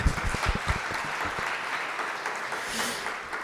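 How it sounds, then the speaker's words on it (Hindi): Audience applause at a Hindi poetry evening, a dense crowd clapping that starts with sharp close claps and settles into a steady, fairly loud wash that fades slightly toward the end. "आपने मेरे स्वागत में काफी जोरदार तालियां बजाई।"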